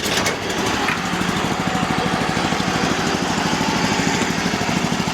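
A small engine on a rare Japanese dump cart fires up and settles into a steady, loud, rapid chugging idle that runs close by and continuously, with no talk over it.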